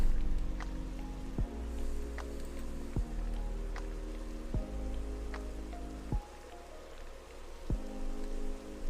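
Steady patter of rain in a Minecraft world, soft and continuous, with faint regular clicks and taps layered over the wash of drops.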